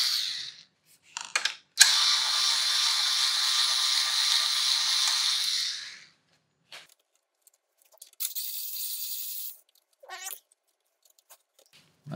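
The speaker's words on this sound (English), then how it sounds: "There's surprisingly few screws that you usually have to take out to get the bed out" A screwdriver ratchets steadily as screws are undone to remove a scanner bed, with one long burst of clicking followed by shorter bursts and pauses, close and quiet.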